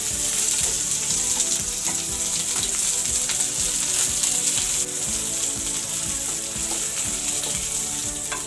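Chopped capsicum sizzling steadily in hot oil in a pan, a loud, even crackle throughout with faint stirring, cooked for a tuna chilli dish, no voices.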